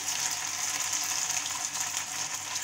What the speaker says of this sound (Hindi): अब इसमें जितने सोया चाप आएंगे उतने मैं ऐड करूँगी क्योंकि हमारे को सोया सैलो फ्राई करना है